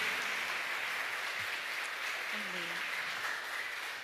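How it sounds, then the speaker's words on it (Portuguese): A church congregation applauding during an evening service, a steady, somewhat distant wash of clapping with faint voices mixed in underneath. "Vamos aplaudir o Senhor mais uma vez com alegria."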